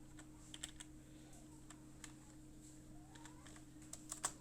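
A name is typed into an Excel spreadsheet on a computer keyboard, giving faint, irregular key clicks over a steady electrical hum, with no voices.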